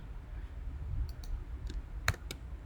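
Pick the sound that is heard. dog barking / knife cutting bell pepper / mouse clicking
mouse clicking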